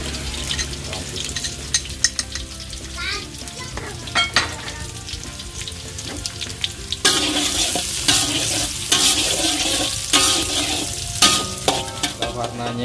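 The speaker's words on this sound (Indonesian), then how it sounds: "Langkah pertama kita tumis bawang merah," Shallots and garlic sizzle in a little oil as they are stirred in a pan while cooking a Padang-style crab dish, with loud frying crackle, scraping stirs and brief bursts of hiss growing stronger partway through.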